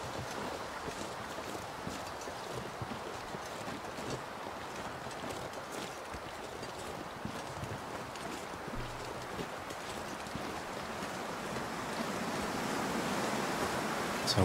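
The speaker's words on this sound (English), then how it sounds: "Windy day." Coastal wind in the survival game The Long Dark, a steady broadband rush with gusts and a faint surf-like wash that swells louder toward the end. No one speaks.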